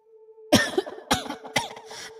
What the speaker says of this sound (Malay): Dengan terbatuk-batuk ibu menyampuk.